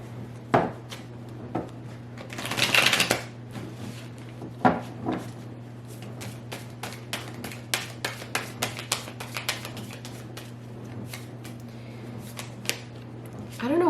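Repeated soft slaps and riffles of tarot cards being shuffled close up, with a longer rustling burst early on and a steady low hum underneath.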